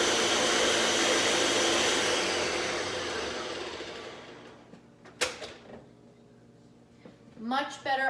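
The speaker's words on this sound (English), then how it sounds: "Much better on the puree setting." A NutriBullet blender purees chocolate pudding ingredients, including avocado, with a loud, steady whir that winds down and fades over several seconds, followed by a few clunks and a short burst of voice.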